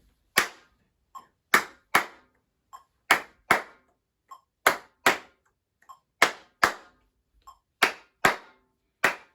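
Students clap a counted rhythm exercise in a classroom music lesson, sharp unison claps in a steady accented pattern of loud strokes and softer in-between claps, close and dry with no talking.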